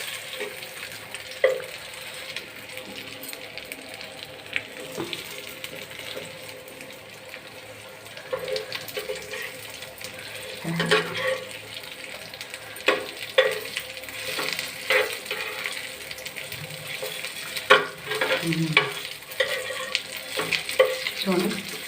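Fish fries in oil in a pan with a crackling sizzle that runs throughout, broken by irregular scrapes, knocks and splashy bursts as it is handled. The sounds are close, and there is no talk.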